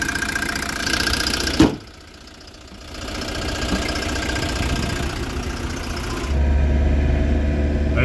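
An old camper van's engine runs steadily with a suspected faulty alternator, a broad mid-range drone with a brief sharp knock and dip around two seconds, then swelling louder as it accelerates near the end.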